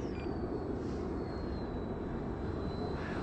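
A 3D-printed J10 RC jet on its first flight gives a steady, loud jet whine and roar that holds at an even level throughout, with no voices.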